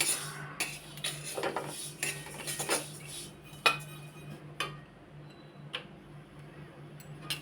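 Sesame seeds roasting in a pan for Ganesh puja prasad give faint, irregular ticks and pops, scattered sharp clicks over a low background hum, thinning out toward the end.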